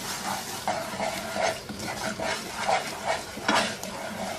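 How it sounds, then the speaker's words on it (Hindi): Dry semolina scraped and stirred while roasting in a hot pan, with a soft steady sizzle and repeated scraping strokes, close and moderately loud. "इसको इतनी देर तक भूनेंगे कि इसकी रंगत जो है वो हल्की सुनहरी माइल हो जाए"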